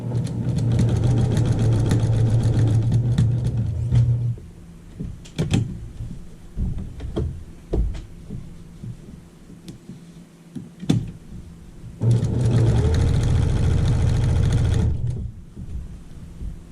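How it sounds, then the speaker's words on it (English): A sewing machine stitching around the edge of a quilted table runner, running in two steady bursts of fast mechanical whirring separated by quieter clicks and handling noises in between. "I'm going to sew around the edge of this."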